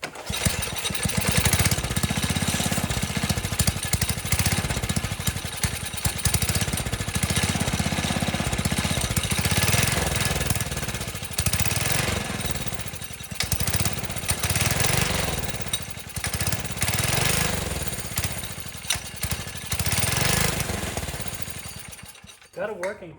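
Small engine of a vintage Manco Thunderbird minibike runs continuously up close, a loud, rough, rapid chattering with slight surges in speed, and people talk over it now and then.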